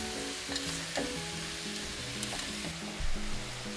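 Pork and vegetables sizzle steadily in hot oil while being stirred in a pan for Japanese tonjiru pork miso soup, a constant close hiss with a few scraping stirs, over soft background music.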